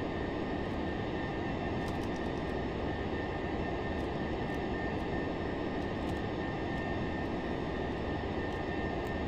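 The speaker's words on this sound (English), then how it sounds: "he is in a super fast jet" Steady, loud roar of a fast jet in flight in a Roblox aircraft carrier game, a continuous broadband engine rush that holds unbroken from start to end with no voices.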